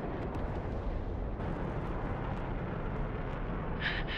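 A missile explodes as a MiG-29 is shot down in the DCS combat flight game, heard as a loud, sustained, rumbling roar without pause.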